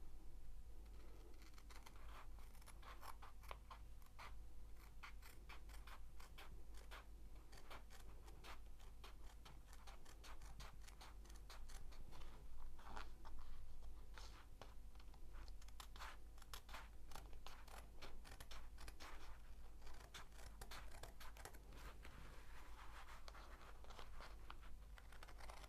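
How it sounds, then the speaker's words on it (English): Kitchen scissors snip steadily along a marked line through a diamond painting canvas, a dense run of close, crisp ticking cuts continuing without a break over a low background hum. "So all I do now is cut along the line."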